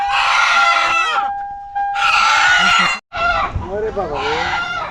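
Chickens on a native-breed poultry farm in a hilly area of Saudi Arabia cluck and squawk loudly and close up in agitated bursts, with a short pause midway between the noisy flurries.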